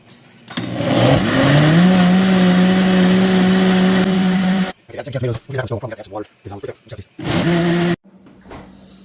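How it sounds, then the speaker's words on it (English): A kitchen blender whirs steadily for several seconds, pureeing canned tomatoes for an arbol pepper sauce, then gives a series of short choppy pulses and one more burst before stopping. "I added a can of tomatoes. I'm going to blend those in."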